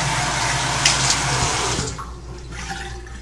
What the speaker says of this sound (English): I'm going to rinse my face with cold water